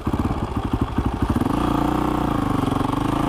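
A motorcycle engine runs close by, first in a choppy, uneven idle and then settling into a steady, continuous rumble.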